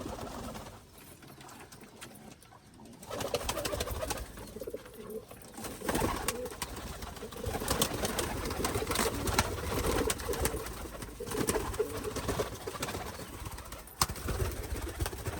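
Rajshahi Giribaz pigeons coo softly indoors in a room, with low repeated calls and some shuffling against a quiet background.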